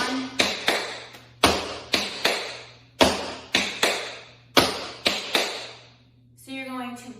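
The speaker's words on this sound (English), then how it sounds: "you're going to make a pullback sound on that right leg, the one that's in front" Tap dance pullback steps on a hard floor, sharp metallic clicks arriving in quick groups of two or three with short pauses between, close and loud, followed by a brief spoken word at the end.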